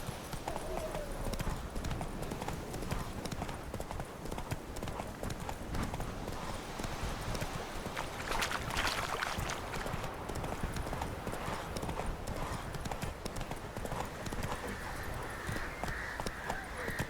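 Horse hooves gallop in a steady, rapid clip-clop through the whole stretch in The Witcher 3 video game, with a brief whinny and a faint voice over the constant ambient game sound.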